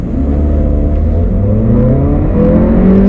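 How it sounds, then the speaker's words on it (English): A Volkswagen Polo GT engine revs hard in sports mode, its harmonics climbing steadily and loudly toward the red line for about three seconds with no pauses or talk. "This engine loves to rev"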